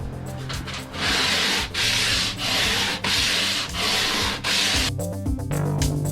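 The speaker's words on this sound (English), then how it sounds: "start radiusing the fretboard so I can start working that distance in for both sides" Sanding a radius into a purpleheart guitar fretboard for a thinline Telecaster-style build, with a close, loud rhythm of rasping back-and-forth strokes, about one stroke every half second to second, and a few slower rubs at the end.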